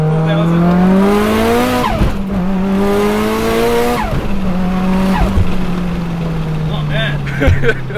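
A Mitsubishi Evo accelerating hard in second gear, its engine note climbing steadily in a loud, continuous rising drone heard from inside the car, with a brief shift dip and people talking over it.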